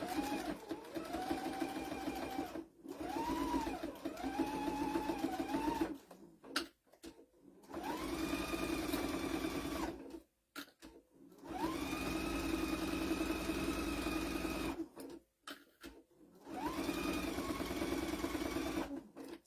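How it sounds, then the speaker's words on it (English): A sewing machine stitches thick fabric for a Halloween trick-or-treat bag, running in several steady whirring bursts of a few seconds each with short pauses between, close and fairly quiet. "I'm going to sew it like 1/8 of an inch until I do my other"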